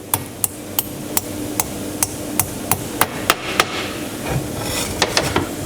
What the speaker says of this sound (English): using a small ball peen hammer